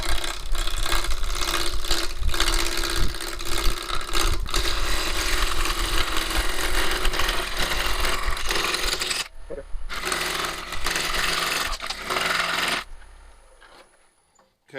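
A wood lathe spins a bowl blank while a turning tool cuts it round, a loud continuous rough scraping and rumbling that drops out briefly near the end before the machine winds down.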